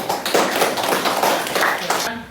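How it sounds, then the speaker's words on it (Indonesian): Sixth-grade primary school pupils clapping together in a classroom, rhythmic group clapping that stops abruptly near the end, with voices mixed in. "Oke, tepuk tangan."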